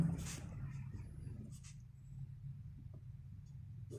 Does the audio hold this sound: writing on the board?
yes